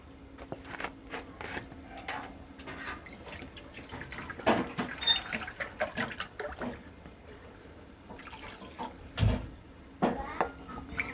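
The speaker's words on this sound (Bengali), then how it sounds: "ওইটুকু জল দিলে তো আর হবে না, আমাকে আরেকটু জল দিতে হবে" Water poured into a cooking pot in uneven splashy bursts, with drips, a couple of sharp clunks and a pause between pours, fairly quiet and close.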